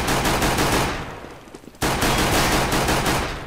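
Rapid gunfire from Counter-Strike: Global Offensive, loud and close, drops briefly into a quieter gap before the shots burst back in and continue steadily to the end.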